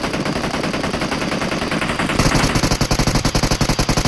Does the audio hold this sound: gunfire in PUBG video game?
yes